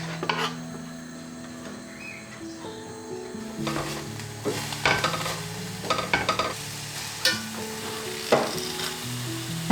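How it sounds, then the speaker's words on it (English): Chopped pepper and green onion sautéing in a pan, a soft sizzle under irregular scraping and stirring strokes from a utensil against the pan, close and fairly quiet. "In a pan, saute the pepper and the green onion for a couple of minutes."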